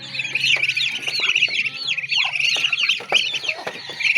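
Many chickens cluck and chirp without pause, a busy, dense chorus of hens and roosters close by, with overlapping short calls and no voices.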